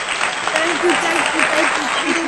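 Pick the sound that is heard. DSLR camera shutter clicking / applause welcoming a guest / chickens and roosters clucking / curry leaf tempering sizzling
applause welcoming a guest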